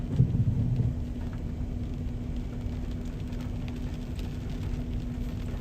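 Deep rumbling thunder rolls through a Miami spring break rainstorm, loudest at the start and then fading into a steady wash of rain noise with a low constant hum, no voices.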